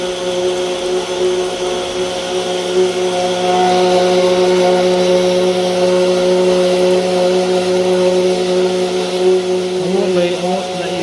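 A water pump runs dry, a loud continuous mechanical whine with a steady droning hum that holds without a break throughout.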